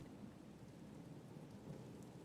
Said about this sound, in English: as the storm rages outside,